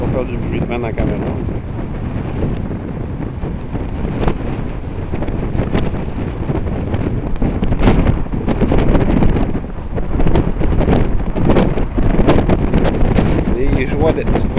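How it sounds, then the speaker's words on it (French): Strong wind buffeting a camera microphone at a cliff edge, loud continuous rumbling gusts for the whole stretch, with voices talking faintly under the roar. "Le vent."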